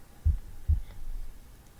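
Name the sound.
heartbeat sound effect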